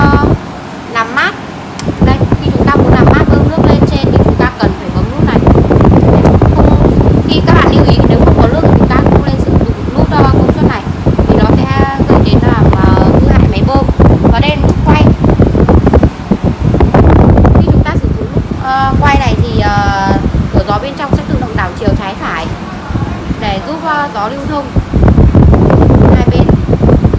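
Sowun SW891LX evaporative air cooler fan running at its highest speed, a loud, steady rushing roar of air that continues throughout while someone speaks over it.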